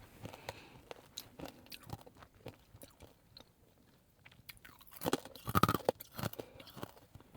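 Close, crisp bites and crunchy chewing of a dark chocolate cookie, with irregular crackles spread throughout and a louder burst of crunching near the end, heard alone without talk.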